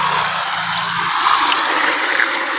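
An electric water pump motor fills water for washing a cattle shed, producing a loud, continuous rush of flowing water with a steady hum, close by and with no talk.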